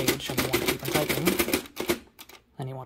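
A 1925 AEG Mignon 4 index typewriter clacks through a rapid run of sharp, close keystrokes, then pauses before one more strike as someone speaks over it.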